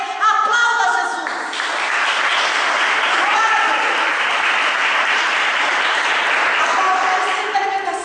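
A church congregation breaks into loud, sustained applause that swells in after a brief moment of a voice and holds as a dense, even wash of clapping until the end.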